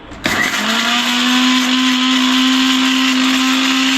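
A kitchen mixer grinder runs steadily on rice, a loud continuous motor whine with a bright grinding roar that starts abruptly after a brief quieter moment and holds at full intensity to the end.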